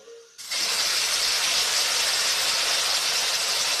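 Gravy poured into a hot kadai at a roadside stall, bursting into a loud, sudden sizzle that holds as a steady hiss after a short quiet lead-in.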